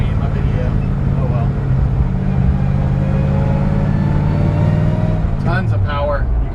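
A 1965 Ford F100 pickup with a 302 engine and a T5 manual gearbox pulls along a residential street. A steady, loud engine drone runs underneath someone talking close by throughout.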